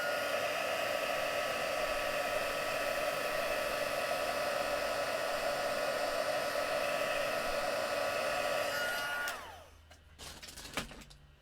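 A heat gun blowing hot air to melt embossing powder on a stamped card, a steady loud whirring hum that winds down as it switches off near the end, leaving faint handling clicks.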